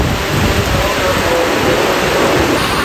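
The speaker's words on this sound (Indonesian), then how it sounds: "Selesai opening langsung hujan deras." Heavy rain pours steadily on the surroundings at a train station on the Gumarang train service, a dense, constant hiss with faint voices underneath.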